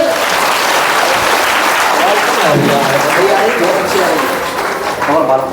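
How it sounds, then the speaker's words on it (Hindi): Loud, continuous clapping from a congregation at a Christmas satsang gathering, with voices and cheering mixed in throughout and a sustained wash of hands from start to finish. "तो एक बार जोरदार तालियां परमेश्वर के लिए"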